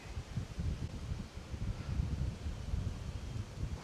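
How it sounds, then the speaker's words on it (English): Wind buffeting the microphone in low, gusty rumbles at a cemetery, rising and falling continuously with no other sounds. "It's kind of windy"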